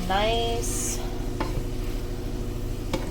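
Noodle dish ingredients for Asian-style noodles cook in a pan with a dense, continuous sizzle, while a short squeak opens the clip and occasional spoon scrapes and knocks of stirring sound through the frying.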